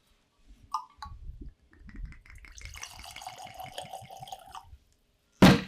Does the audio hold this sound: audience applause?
no